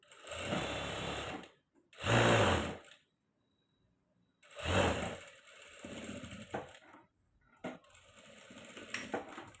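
A sewing machine stitching a princess-cut blouse runs in several short loud bursts separated by near silence, the rattling motor close and clear, with a final longer stretch of uneven stitching.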